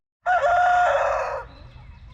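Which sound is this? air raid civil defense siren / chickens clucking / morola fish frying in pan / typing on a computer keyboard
chickens clucking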